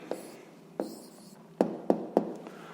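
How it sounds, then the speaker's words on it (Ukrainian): A maths answer being written by hand gives soft scratching strokes with several sharp taps of the pen, close and quiet, in brief separate bursts. "Ну що ж, е, записуємо відповідь."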